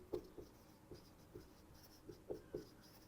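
Marker or chalk writing on a board during a physics lecture on antiparticles: a few sparse, separate strokes and taps at close range in a quiet room, with no talking.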